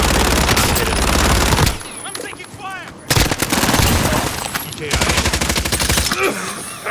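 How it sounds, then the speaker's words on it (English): Rapid automatic gunfire in an online shooter game, loud dense bursts with brief pauses, mixed with game effects and players talking over it. "I'm taking fire!"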